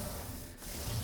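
A cloth rubs steadily across an acoustic guitar's fretboard during a refurbish, a continuous close, soft scrubbing with a brief lull midway.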